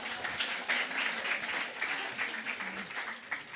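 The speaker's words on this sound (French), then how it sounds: "On l'applaudit bien fort." An audience applauds Lolita at a training session, a steady spread of hand claps lasting a few seconds at moderate distance, with no voices over it.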